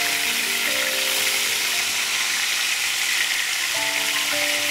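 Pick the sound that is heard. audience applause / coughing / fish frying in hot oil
fish frying in hot oil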